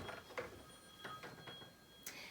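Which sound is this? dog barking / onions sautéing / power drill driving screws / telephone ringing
telephone ringing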